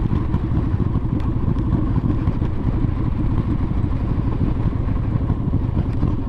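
A Bigdog motorcycle engine with a 585 cam and tappets runs steadily at idle, a loud, low, even rumble with a faint mechanical clatter and no voices.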